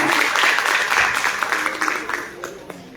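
An audience applauds at a classical singing programme. The clapping is dense at first and thins out over about three seconds.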